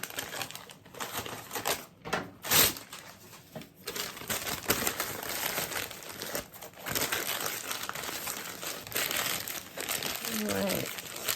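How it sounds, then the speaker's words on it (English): Sheets of paper are wrapped and crumpled by hand into a riser, making steady crinkling and rustling close up with a few sharper crackles, while a person talks over it. "I'm going to make my own riser, okay? And I'm going to do that by just wrapping up some paper"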